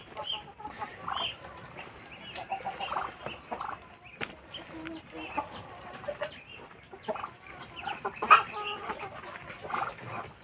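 Chickens clucking and calling inside their pen on a Filipino backyard farm, with a rooster-like crow standing out midway, steady overlapping squawks and clucks throughout, close and moderately loud.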